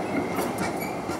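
A tram rolls through central Amsterdam near the Dam and Kalverstraat, a brief rumbling rail clatter with wheel noise, steady and moderately loud, with no voices.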